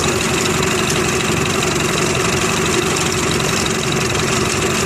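An engine idles roughly in gear, close to stalling, with a steady, loud, low rumble and vibration throughout and no other sounds.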